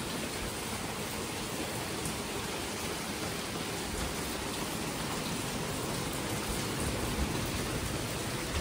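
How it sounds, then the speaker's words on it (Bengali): Heavy rain falls nonstop outside a cottage in Goa, a dense, even roar of drops hitting surfaces with no letup, heard from a balcony. "এই দেখো প্রচণ্ড পরিমাণে বৃষ্টি পড়ছে, কন্টিনিউ বৃষ্টি পড়েই যাচ্ছে"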